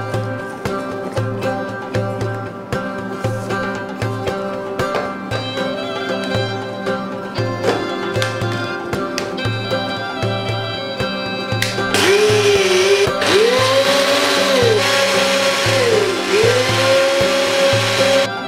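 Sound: blender blending tahini sauce with olive oil and refined oil

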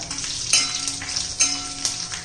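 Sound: whole red chillies frying with asafoetida for onion-coriander chutney

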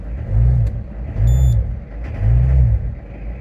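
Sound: car engine revving while running on vegetable cooking oil

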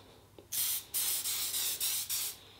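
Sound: aftershave aerosol spraying

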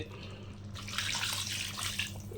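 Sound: pouring water into pot of chicken curry

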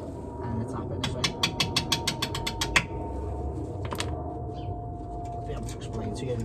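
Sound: ratchet with 13mm socket undoing Range Rover brake bolts

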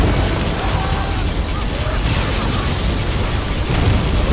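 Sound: particle cannon blast in C&C Generals video game

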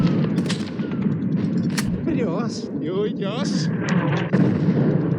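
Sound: gunfire shooting Soviet soldiers in a video game

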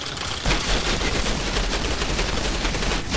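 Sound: gunfire from a gun in the video game Outriders

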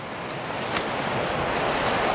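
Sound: natural spring water flowing

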